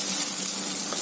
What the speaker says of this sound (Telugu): అల్లం వెల్లుల్లి పేస్ట్ కూడా చక్కగా వేగిపోయింది.